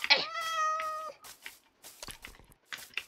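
A cat in the Minecraft video game gives one clear, drawn-out meow lasting about a second, followed by scattered soft clicks and faint game sounds.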